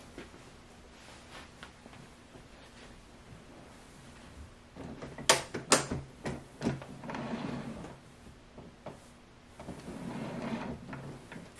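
A La-Z-Boy Wallsaver recliner chair is reclined after its rollers were replaced, giving a series of close mechanical clunks and sharp clicks midway, then softer creaks and rustling of the frame and upholstery.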